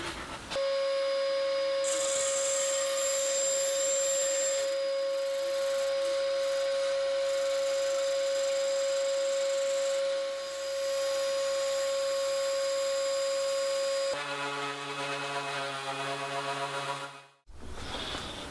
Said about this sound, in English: I'll probably use the bandsaw to cut that out